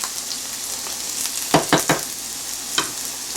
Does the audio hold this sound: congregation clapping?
no